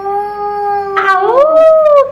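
A voice imitates a wolf howl, a sustained tonal note that rises and bends upward midway, close and fairly loud, with a second voice briefly joining.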